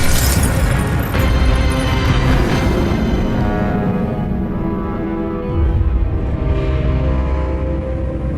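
Incendio fire spell cast in Hogwarts Legacy, a loud, dense burst of blasting, crackling energy that fills the whole clip with a boom-like roar, slowly thinning toward the end amid game effects.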